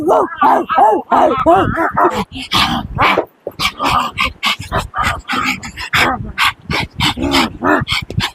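Voices imitate dogs, barking, growling and yipping in quick, loud bursts, with laughter and chatter mixed in.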